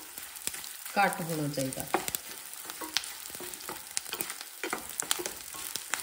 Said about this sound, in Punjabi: ਗੂੰਦਾ ਨੂੰ ਜਦੋਂ ਤੁਸੀਂ ਤਲਣਾ ਆ, ਘਿਓ ਗਰਮ ਹੋਣਾ ਚਾਹੀਦਾ ਆ